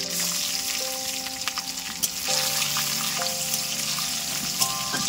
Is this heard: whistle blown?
no